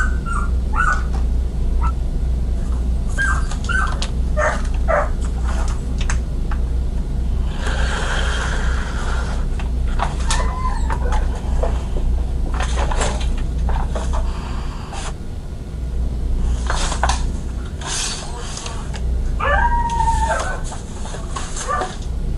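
Several malnourished dogs bark, yelp and whimper in short, irregular bursts over a steady low rumble. The calls come close and loud, mixed with bird-like squawks.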